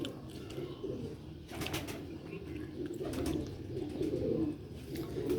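A pair of Sialkoti pigeons cooing close by: soft, low repeated coos with some rustling and brief scuffles, fairly quiet, with no voices.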